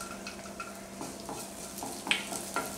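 Garlic sautés in melted butter in a pan, with a soft sizzle under light stirring, a few faint utensil clinks and a brief metallic scrape, and no talking.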